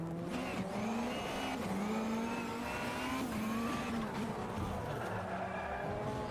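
A race car in the Automobilista 2 racing game is flung through an aggressive handbrake turn. Its engine drones steadily while tires squeal and skid continuously, loud and close throughout.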